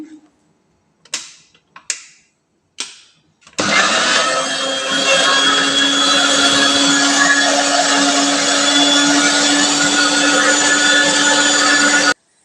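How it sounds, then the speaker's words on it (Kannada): A mixer grinder blending mango juice whirs loudly and steadily for about nine seconds after a few short clicks and knocks, running without a break until it cuts off. "ನಾನೀಗ ಮಿಕ್ಸಿಗೆ ಹಾಕ್ಕೊತಾ ಇದ್ದೀನಿ"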